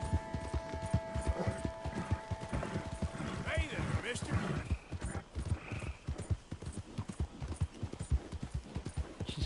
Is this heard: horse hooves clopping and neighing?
yes